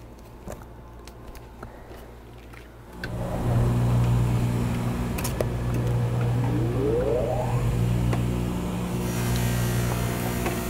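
A motor-driven buffing wheel spins up to a steady whirring hum, its surface faced off with a broken grinding wheel, giving a continuous close drone with faint scraping and rising whine.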